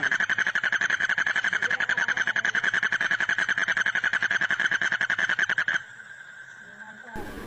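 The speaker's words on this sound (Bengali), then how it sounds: "আশেপাশ থেকে অনেক ব্যাঙের শব্দ আমার কানে ভেসে আসছে।" Frogs croaking at night after rain, a dense, rapid pulsing chorus close by and loud, cutting off abruptly toward the end and leaving a faint background.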